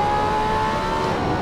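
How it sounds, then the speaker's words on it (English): Ferrari engine revving in the Assetto Corsa racing game, a steady sustained engine drone with a constant high whine throughout, loud and alone without talk. "Strange noises from the engine."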